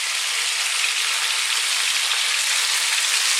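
Onion with fresh chopped garlic and ginger frying in a pan over high heat for an Indian chicken curry, giving a steady, loud, even sizzle with no breaks.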